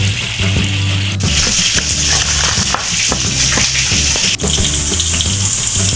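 Tuna frying in oil just after the pieces are flipped, for a Minang-style balado dish: a dense, continuous close sizzle with watery spattering and occasional sharp clicks from a utensil.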